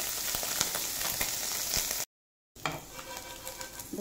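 Fish, a gutum fish, sizzles and spits in a hot frying pan, a dense steady crackle with small pops. A short gap of silence falls midway, and the frying then resumes.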